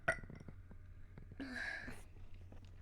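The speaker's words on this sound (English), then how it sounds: "Oh my gosh, I need a burp." A person's burp during a relaxed indoor chat, one brief low guttural eruption near the mic around the middle, with breathy mouth noises before it and no talk.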